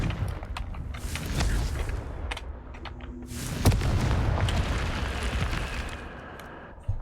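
A Confringo blasting spell in Hogwarts Legacy lets off a rumbling explosive boom with a sharp crack partway through, trailing into a long rolling roar and debris noise, moderately loud and with no voices.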